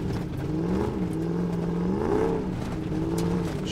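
A Dodge Ram 1500 with a replacement 5.7 HEMI V8 on 37-inch tires is eased through dirt during break-in, its engine holding a steady, close rumble that swells and dips with gentle throttle.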